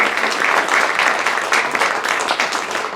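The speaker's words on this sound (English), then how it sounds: "I want to clap. Can we clap?" Audience at an author talk applauding, a dense, steady wash of clapping from a room of people, sustained for the whole stretch at moderate loudness.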